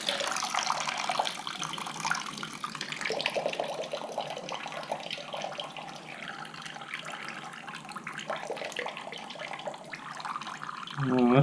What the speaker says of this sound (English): Well, that fixture holds a lot of water.